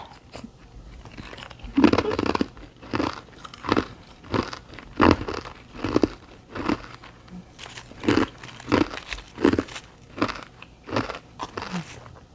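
Hard cube ice coated in freezer frost is bitten and crunched close to the mic in repeated loud, crackling bursts, each separated by short pauses of quiet chewing.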